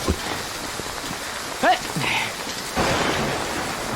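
Light rain falls as a soft, continuous patter, with a few voices and a brief exclamation heard over it.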